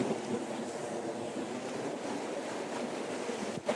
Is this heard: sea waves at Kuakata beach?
yes